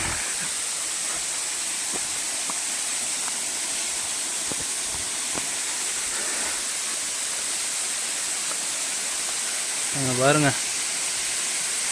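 Water rushes steadily down a newly found hillside waterfall in Puthur Nadu, a constant close hiss that fills the whole stretch while someone speaks briefly near the end.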